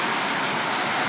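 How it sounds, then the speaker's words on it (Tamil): Rain falling at night makes a dense, even hiss that stays steady and unbroken throughout the short stretch. "எங்க வந்து ஓரப்பா மழை பெய்யுது ராத்திரி."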